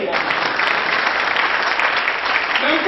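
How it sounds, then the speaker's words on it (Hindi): A large audience claps together at a lecture, a dense, steady wash of applause that stays loud and even from start to finish. "तो आप चाहे या ना चाहे उनके लिए तालियां बजानी पड़ेंगी"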